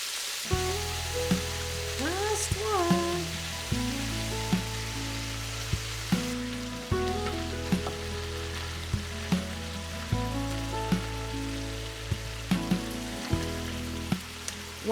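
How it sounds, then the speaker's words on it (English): Beef rouladen rolls sizzle steadily as they brown in a pot, a constant close frying hiss with occasional pops and clinks of tongs, no voices. "While the last few rolls finish browning"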